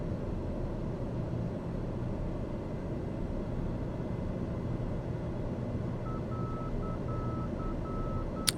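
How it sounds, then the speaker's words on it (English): In Microsoft Flight Simulator, a TBM 930's steady low engine drone fills the background, then a faint repeating dashed marker beacon tone starts near the end, pulsing rapidly. "That's the marker sound."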